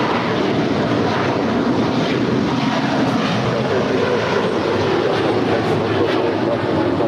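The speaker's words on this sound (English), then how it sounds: "That is Qatari 742 departing to Doha. It's an A350 1000." A Qatar Airways Airbus A350-1000 jet departs LAX, a loud steady engine roar heard from a distance, broadband and unbroken throughout.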